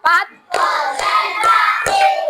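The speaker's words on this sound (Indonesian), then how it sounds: "Ulangi, tepuk 1, tepuk 2, tepuk 3, tepuk 4," Schoolchildren in a classroom clap together in a counted rhythm, giving several sharp, evenly spaced group claps close by with brief gaps between them.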